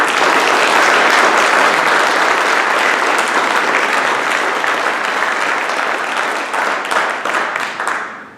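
Sustained applause from a banquet audience welcoming Dr. Edward Mullen at a Veterans Day banquet, loud dense clapping that holds steady and then tapers off at the end.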